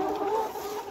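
Layer hens on a poultry farm cluck softly in a brief close burst, a steady run of low hen calls with no voices over them.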